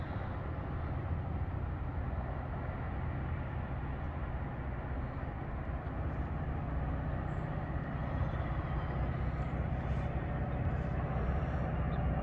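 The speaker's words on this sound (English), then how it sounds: "It's an Amtrak." A steady, distant rumble builds slowly as an Amtrak passenger train approaches along the line, with no talking.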